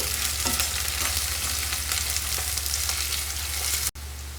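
Onions and curry leaves fry in hot oil with a steady, dense sizzle and faint stirring scrapes. The sound runs loud and unbroken for about four seconds, then cuts off abruptly and returns slightly quieter.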